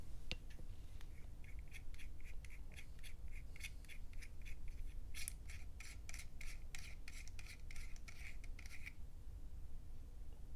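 A blue/green gold-edition laser pointer body being unscrewed, faint close scratchy rasping of metal threads in quick repeated strokes over a quiet background.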